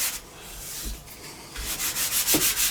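Wood being sanded by hand, a soft abrasive rubbing in short strokes that comes and goes, with a few louder scuffs toward the end and no talking.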